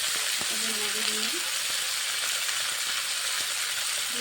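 Chopped onion frying in oil alongside potato and pointed gourd gives off a loud, steady sizzle, with a few light stirring clicks and a brief voice under it.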